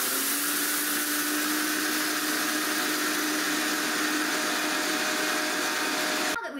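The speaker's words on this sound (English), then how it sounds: "This might get a little loud, so make sure to wear hearing protection before you start your blender." A blender grinds hard white wheat berries into flour with a loud, steady roaring whir that holds unbroken for several seconds before cutting off abruptly at the end.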